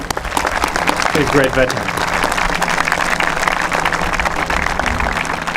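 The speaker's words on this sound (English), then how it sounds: "Please, a big round of applause." Sustained audience applause at an outdoor Memorial Day ceremony in Los Angeles, a dense wash of clapping throughout, with someone speaking briefly over it.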